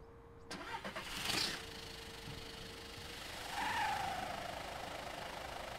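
A car pulls away very slowly after a brief engine start, its engine modified with a bicycle inner tube; a steady low idle rises gently in the middle, fairly quiet and close, with no voices.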